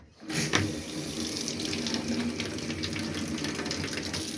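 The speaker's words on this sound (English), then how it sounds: "Warm water out the vanity unit." Warm water runs steadily from the tap of a vanity unit sink in a motorhome washroom, a close, continuous splashing flow that starts abruptly and carries on without pause, with no talking.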